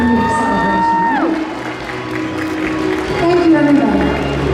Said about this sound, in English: let's give all of our young recipients a big round of applause